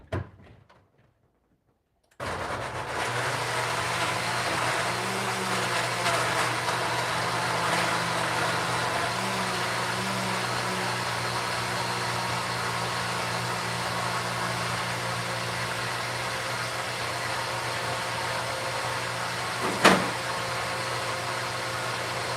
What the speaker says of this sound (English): If you don't like loud noises, feel free to mute as I blend this.